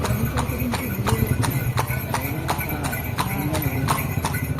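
A ridden horse's hooves clip-clop in a steady, even rhythm close by, with voices murmuring in the background.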